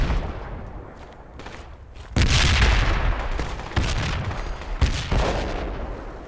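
Grenade blasts in the military shooter Project Reality 1.3, two heavy booming explosions a few seconds apart with rumbling tails, following quieter distant gunfire, loud and close.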